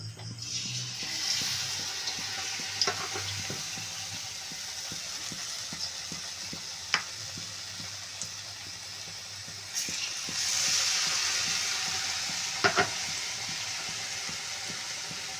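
Pumpkin slices for kumroni fritters fry in very hot oil, giving a steady close crackling sizzle with scattered sharp pops and spatters throughout.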